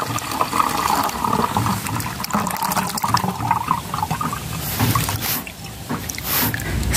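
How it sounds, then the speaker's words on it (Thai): Liquid made from orange peels runs through a filter and pours into a bottle in a steady, close trickle and splash, continuous for several seconds with a heavier gush toward the end. "กรองเลยค่ะใส่ในบ็อกกี้เลยนะคะอันนี้จะเป็นน้ำปริมาณ1ลิตรนะคะ"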